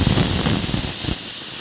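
A masala dosa hits a hot pan with a loud, close burst of steamy sizzling hiss that fades out after about a second.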